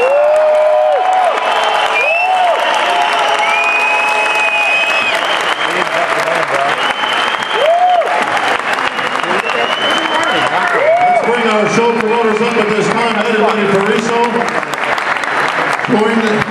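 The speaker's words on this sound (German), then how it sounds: "Jetzt in diesem Moment ist der Applaus für den am wichtigsten." Sustained applause and cheering from the audience at a bodybuilding show finale for the second-place finisher, loud and continuous, with whoops rising above it.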